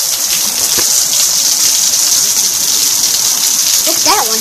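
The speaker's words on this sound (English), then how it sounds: "It's pouring out." Steady, dense rush of heavy rain pours throughout, a constant broadband hiss with a brief voice near the end.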